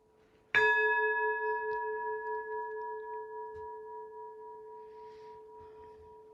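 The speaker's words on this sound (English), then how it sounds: "the sound of the great bell" A great bell struck once, a clear resonant strike followed by a long, steady hum that slowly fades over several seconds in a quiet space.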